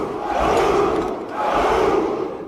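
A Spartan army in a movie shouting a battle cry: a massed crowd of men roaring together in two long, swelling waves, loud and full.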